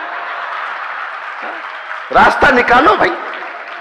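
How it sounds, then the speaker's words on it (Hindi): A short burst of audience clapping at a Hindi comedy poetry show rises for about a second after someone speaks briefly, loud and close over a steady room hum. "तालियां बहुत कम बज रही"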